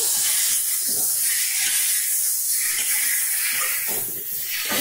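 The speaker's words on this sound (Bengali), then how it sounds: "এবার দেখো সমস্ত মশলা আমি ভালো করে কষিয়ে নিচ্ছি।" Spices fry in a pan with sugar for a cauliflower and potato dish, giving a loud continuous sizzling hiss that swells and ebbs as the mixture is stirred, with no talking.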